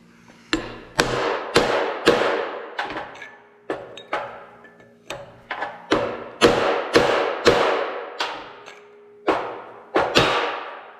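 A big hammer pounds the end of a steel tube in a rod-building shop, a long run of loud, sharp metallic blows at an uneven pace, close up and with no talk.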